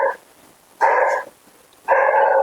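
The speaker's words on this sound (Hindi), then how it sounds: "कुत्ता भौंक रहा, आवाज़ आ रही होगी" A dog barks nearby in a home, with three loud, clear barks spaced about a second apart and quiet pauses between them.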